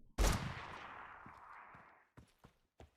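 A single loud gunshot headshot in the video game Crayta, a sharp blast with a long decaying tail, followed by a few faint clicks.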